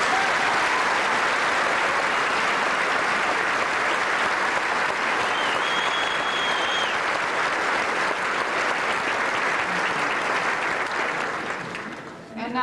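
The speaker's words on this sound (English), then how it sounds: "Let's applaud both." A large crowd at a 1998 University of Alaska Fairbanks commencement ceremony claps steadily in a dense, sustained wash of applause that carries on unbroken before trailing off at the very end.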